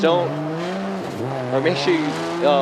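A drift car slides through a corner at Okayama International Circuit during Formula Drift Japan qualifying, with engine roar and tire squeal rising and falling under steady commentary voices.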